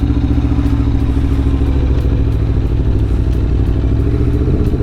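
A 2021 Aprilia Tuono V4 Factory motorcycle is ridden slowly in first gear, its engine burbling loud and close with a steady low throb and light mechanical clatter, with no voices.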